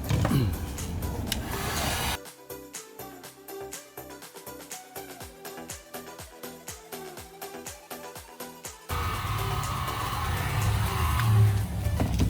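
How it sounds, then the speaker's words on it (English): Heat gun blowing in a steady, loud airy rush during work on a 2019 Subaru WRX, starting at the beginning, dropping out briefly in the middle while scraping and tapping sounds continue, then roaring back. "Gotta hit it with the heat gun."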